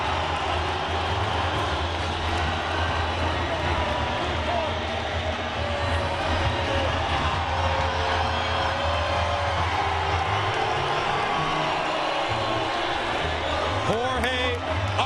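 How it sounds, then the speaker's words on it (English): A big boxing-arena crowd roars steadily for Jorge Arce before his super flyweight title fight, a dense wash of cheering that never lets up, with a commentator talking over it. "mostly this crowd is very, very pro-Arce"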